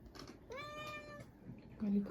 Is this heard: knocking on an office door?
no